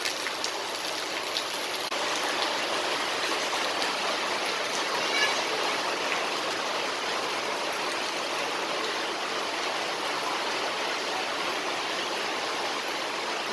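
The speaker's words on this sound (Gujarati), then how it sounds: "આ ઉપર પતરા માથેથી નીચે પાણી ધોધ પડે છે." Rainwater pouring off tin roof sheets in a steady, even rush like a small waterfall, with light patter of drops mixed in, continuous and moderately loud with no talking.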